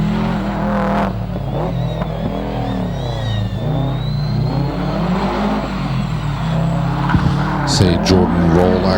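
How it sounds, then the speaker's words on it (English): At a lakeside hillclimb, a Subaru WRX race car revs hard accelerating out of a hairpin toward the top of the hill, its engine note rising and falling through gear changes while a commentator talks continuously over it. "in the Subaru WRX leaving the hairpin and going to the top of the hill"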